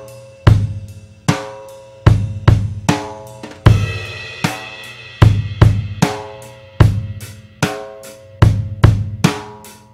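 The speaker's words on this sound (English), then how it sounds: "once you're a little bit comfortable with that, you'll start to speed it up and it'll sound more like this" A rock beat on a drum kit played at a quicker tempo, punchy kick and snare hits in a regular repeating pattern, loud and close with cymbal ring between strikes, no voices.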